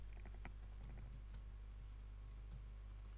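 A password is typed on a computer keyboard, with a brief series of light, irregular key clicks close by over a steady low hum, then pausing.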